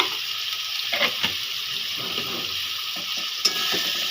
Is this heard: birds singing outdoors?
no